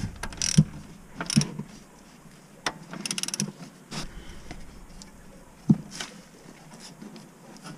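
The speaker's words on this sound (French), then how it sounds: "je viens faire ma vis du haut. Je viens la serrer." Scattered ratchet clicks and metallic tool sounds come from tightening the upper brake caliper screw on a BMW 5 Series E39 during a rear disc and pad change, heard as short, irregular bursts with quiet gaps between them.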